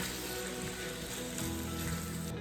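Manwich sauce heats in a pan while being stirred, giving off a steady, close, dense sizzle and bubbling that carries on without a break.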